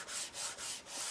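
Paper pieces for a book spine being burnished down, four soft rhythmic rubbing strokes, close and quiet, with no talk.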